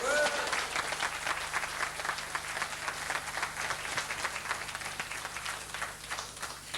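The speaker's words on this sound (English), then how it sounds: "I'd like to give them a big round of applause." A banquet-hall audience at a 1988 Mayo boxing champions' night applauds 37 county national title winners: dense, sustained clapping that stays loud and even for about seven seconds before easing slightly.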